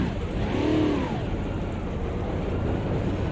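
A stock car engine in a racing video game fires up and revs, a steady mid-pitched motor drone with a rising rev sweep early on, close and continuous with no talk.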